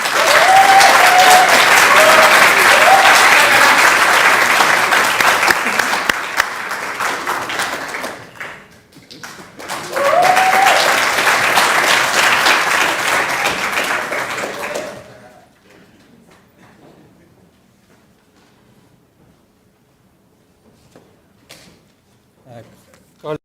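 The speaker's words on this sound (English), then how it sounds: "ask the audience to clap once it receives it, please." An inaugural university lecture audience applauds loudly in a hall, sustained clapping that fades, swells again, then dies away into quiet room noise.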